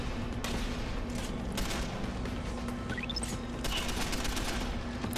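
Combat rifle gunfire in the video game Deus Ex: The Fall, a steady dense rattle of shots layered over continuous game ambience, with no talk.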